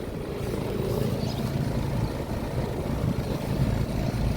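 A 2021 American Standard Silver Series 3.5-ton central air conditioner with an Alliance scroll compressor and fan motor runs outdoors, giving a steady, close, dense low whir and rumble with no pauses.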